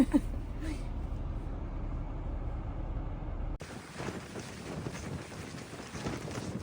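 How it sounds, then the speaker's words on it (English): Strong wind in Newfoundland buffets the microphone with a heavy, low rumble, then the noise shifts to a thinner, gusty roar with occasional bursts. "In case you haven't heard me say it, it's windy here."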